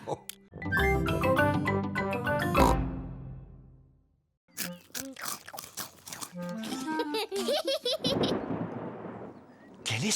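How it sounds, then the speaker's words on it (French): In a Peppa Pig cartoon, a rumble of distant thunder rolls in near the end, following bright music and cartoon voices chatting. "C'était le tonnerre"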